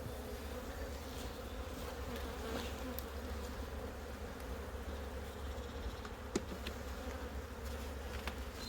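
Dense, steady buzzing of many honeybees close by on a hive frame during an inspection, a continuous droning hum with occasional faint clicks and no voices.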